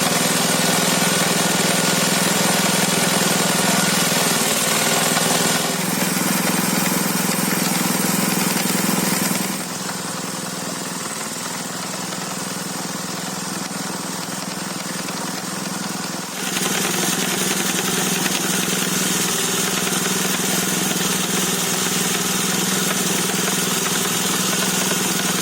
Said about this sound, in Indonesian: kita akan melakukan penggilingan menggunakan mesin